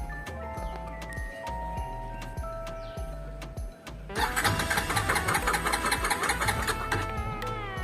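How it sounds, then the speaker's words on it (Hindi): A Bajaj Pulsar 250 motorcycle is cranked with a rhythmic starter chug and then catches, settling into a steady, busy idle with a ticking mechanical rattle; close and fairly loud, with no speech during it. "अब मैं बाइक स्टार्ट करूँगा"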